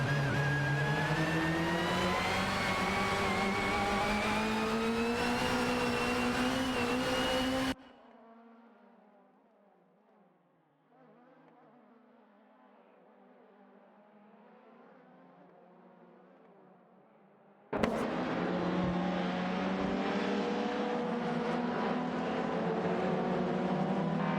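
Volvo 850 and Ford Mondeo 98 race cars in a racing video game, engines droning with rising harmonic pitch, cut by a quiet stretch in the middle before the loud engine tones return.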